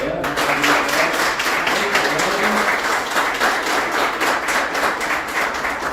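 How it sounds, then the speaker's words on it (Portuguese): Sustained, dense applause from a crowd at a cleaning workers' union board meeting, steady clapping for about six seconds at close range with no pause. "Então, uma salva de palmas para ela."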